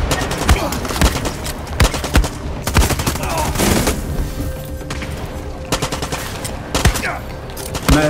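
Rapid gunfire from a fast-reloading weapon in Far Cry 6, with bursts of sharp shots repeating through a busy game soundscape at steady loudness.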